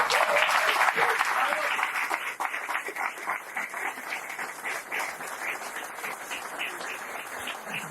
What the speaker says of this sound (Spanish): Me emociona el aplauso de ustedes porque es histórico este momento.